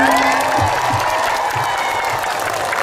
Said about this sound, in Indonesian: Ayo mana tepuk tangannya?